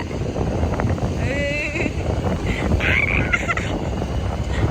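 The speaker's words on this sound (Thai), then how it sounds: "ลมแรง" Gusty strong wind buffets the microphone in a constant rough rumble, with faint bird calls and a distant voice underneath, outdoors near a six-wheel dump truck.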